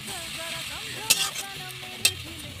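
Mustard paste mixture with oil, sugar and salt stirred in a pan with red amaranth leaves, a low sizzle with soft scraping and two sharp utensil clinks, while a faint voice talks in the background.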